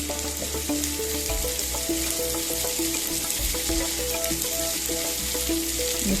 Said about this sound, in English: To the onion we are going to add in 1 teaspoon of ginger garlic paste. Saute this nicely till it turns aromatic.